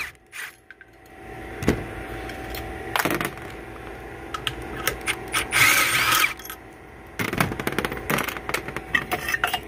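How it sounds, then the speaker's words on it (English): Ratchet wrench backing bolts out of a jack mount on a livestock trailer, with scattered sharp clicks and metallic clanks, a couple of longer ratcheting runs, and faint background hum between strokes. "Get these three bolts out of here, and this jack won't be used anymore."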